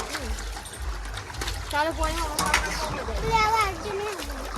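Water from a farm borewell runs and splashes in a steady trickling stream, heard close by under continuous talking voices.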